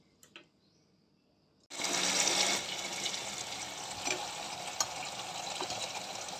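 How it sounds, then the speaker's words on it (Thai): Water pours out in a sudden broad splashing rush after a quiet start, continuing steadily with a few clinks. "เทน้ำออกก่อน"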